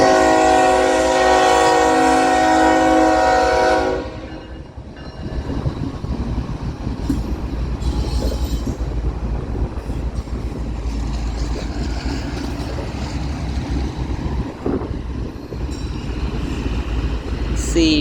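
A BNSF mixed freight train passes close by, opening with a long loud horn blast that gives way to a steady rumbling roll of wagons and wheel noise.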